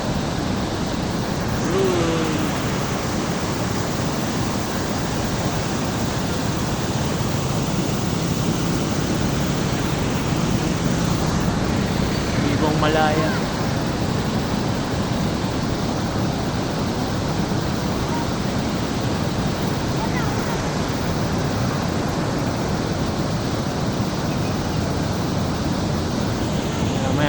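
Flowing river current runs as a steady, loud rushing wash of water, continuous throughout, with faint birdsong and a voice briefly heard beneath it.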